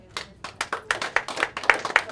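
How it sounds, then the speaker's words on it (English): An audience claps at a stand-up comedy show in an improv club: sharp, scattered claps that build from a few hands to a fuller burst over about two seconds. "Clap if you are against spanking children."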